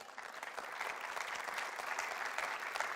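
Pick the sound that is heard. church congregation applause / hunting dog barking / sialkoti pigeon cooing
church congregation applause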